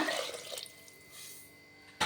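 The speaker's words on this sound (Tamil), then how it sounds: "பச்சை தண்ணி ஊற்றிக்கிறேன்." A short splash of cold water poured into a cooking pot, brighter at first then fading to a quiet trickle, ending with a sudden soft knock.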